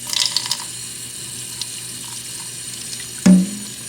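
Cold tap water runs steadily over drained rice noodles in a kitchen sink colander, a continuous close splash with a brief louder gush near the end.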